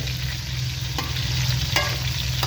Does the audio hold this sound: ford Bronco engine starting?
no